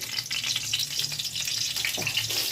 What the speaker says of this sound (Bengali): তেল দিলাম একটু জিরে সাদা জিরে সম্বাদ দিলাম